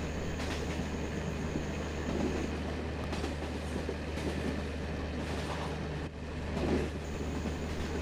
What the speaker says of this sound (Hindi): 109 किलोमीटर की स्पीड पे हमारी कोचें कितनी ज़्यादा मूव कर रही हैं